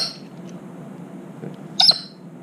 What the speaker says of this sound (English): That's Gandalf squawking at me